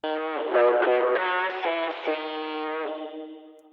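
A heavily processed, distorted vocal with warbling, shifting pitch and a filtered, crunchy tone, sung alone and fading out at the end.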